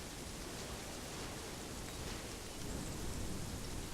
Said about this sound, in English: I don't know who made it rain